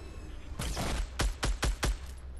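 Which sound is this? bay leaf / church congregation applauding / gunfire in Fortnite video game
gunfire in Fortnite video game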